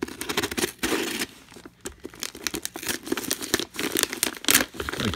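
Wrapping paper is torn and crinkled off a package holding a clear retro neon landline phone, with loud, close bursts of ripping and crumpling that keep going with brief pauses.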